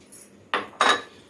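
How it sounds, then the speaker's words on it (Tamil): A metal spoon scrapes twice through pineapple kesari in a pan, two brief close strokes over a quiet background. "இப்போ வந்து நல்லா கிளறி விடுங்க"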